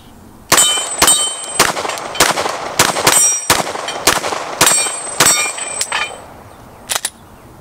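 Glock 34 pistol with a ported barrel firing Winchester White Box 115 grain rounds: about eleven sharp, loud shots in a quick, slightly uneven string, each with a ringing report, the last two spaced after a short pause.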